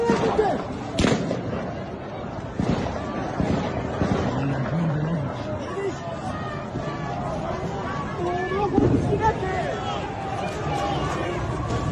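Gunshots crack out at a crowd during unrest in Iran, several sharp reports scattered among shouting and agitated voices, with people talking and crowd noise throughout.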